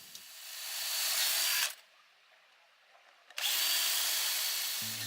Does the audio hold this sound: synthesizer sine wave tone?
no